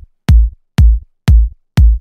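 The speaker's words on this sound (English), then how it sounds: "The kick here sounds like this." Punchy, short layered kick drum sample for progressive house, struck four times at an even rhythm about half a second apart, each hit a loud, deep thump with a quick click on top and silence between.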